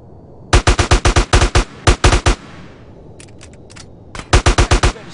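Gunfire in the video game GTA San Andreas, loud rapid bursts of automatic shots in several volleys separated by brief gaps, close and dominant.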